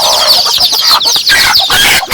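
A hen and her chicks cluck and cheep in a farmyard near rice fields, a dense run of high peeping calls with lower clucks mixed in, close and continuous.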